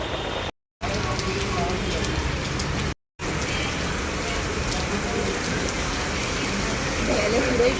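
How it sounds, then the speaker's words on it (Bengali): Steady rain hisses and patters on surfaces in a narrow lane, continuous except for two brief cutouts, with faint indistinct voices underneath. "বৃষ্টি নেমে গেছে ধীরে বৃষ্টি পড়ছে"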